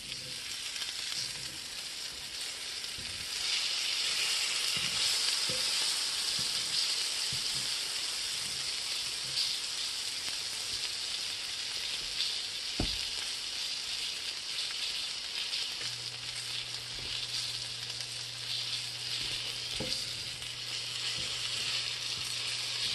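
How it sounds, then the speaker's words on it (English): Tortillas fry in butter in a pan for a quick Thai-style roti, giving a soft, even sizzle that runs steadily throughout with a few faint clicks and scrapes, no talking. "you can see that the tortillas actually soak the butter up"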